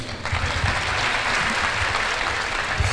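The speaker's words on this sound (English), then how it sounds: "Huge round of applause, ladies and gentlemen." A large audience applauds steadily at a university orientation program after a dance performance, with dense continuous clapping that stays loud and even throughout, with no talk over it.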